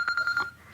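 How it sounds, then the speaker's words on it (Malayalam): A telephone rings in a Malayalam TV comedy scene: a steady electronic tone pulses in quick, even bursts, fairly loud and close, over a short stretch with no talk. "ഫോൺ എടുക്ക്."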